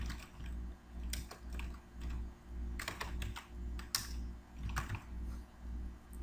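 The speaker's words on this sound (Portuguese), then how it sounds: "O usuário aqui pode digitar um título para o seu arquivo." Keys tapped on a computer keyboard as a title is typed into a form, clicking in short irregular bursts at close range over a steady low hum, with no voices.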